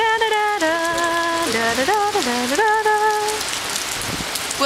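Steady rain falls on a surface in a constant, close hiss, while a voice sings or calls in drawn-out tones over it for the first few seconds.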